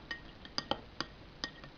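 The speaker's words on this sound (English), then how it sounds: "Now give it a stir up and see what happens." Spoon stirring oil and water in a glass: a handful of faint, sharp clinks against the glass in an irregular rhythm, close by and alone.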